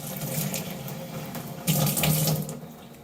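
Tap water runs steadily from a faucet into a measuring cup, a continuous close splashing stream that swells louder partway through as the cup fills.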